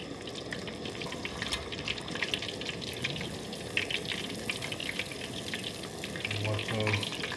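Homemade egg rolls deep frying in hot oil, a dense steady crackle and sizzle with bubbling, close and continuous throughout.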